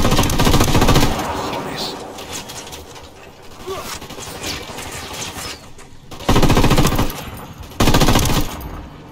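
Sustained automatic gunfire during a vehicle ambush in Ghost Recon Wildlands, dense rattling bursts that swell loudly twice near the end, with a voice talking over the shooting.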